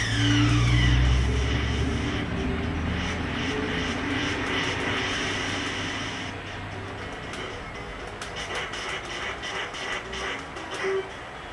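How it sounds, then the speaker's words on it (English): A helicopter escaping in a retro Nintendo video game gives a loud, steady engine drone that fades slightly toward the end, with scattered electronic game sounds over it. "They're escaping in that chopper."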